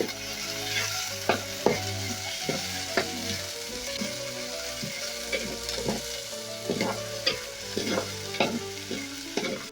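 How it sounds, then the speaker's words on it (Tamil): Onions and dried chillies sauté in a pan, a steady close sizzle broken by repeated scraping stirs of a spatula throughout. "வெங்காயம் வதங்கிறது"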